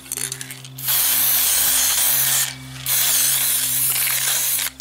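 Silver spray paint hisses from an aerosol can onto wargame fences, in two long, steady, close bursts separated by a short pause.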